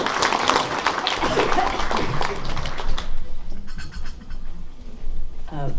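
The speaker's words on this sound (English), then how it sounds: "let's give Amber a round of applause" An audience at a quilt event of a historical society in Onaga applauds, loud and full for about three seconds before thinning into scattered lighter claps and quieter room sound.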